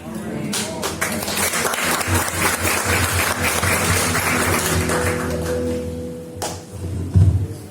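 A church congregation applauds at a Saturday worship service, dense sustained clapping from start to end with music playing underneath and a few louder thumps near the close.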